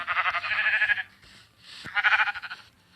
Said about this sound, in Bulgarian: Глупавата овца.